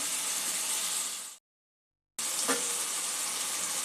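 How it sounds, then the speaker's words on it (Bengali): Sponge gourd with spices sizzles in a pan while being stirred, a steady close hiss that cuts out briefly to silence, then returns with a light utensil knock. "একটু মশলা দিয়ে নাড়াচাড়া করে নেব"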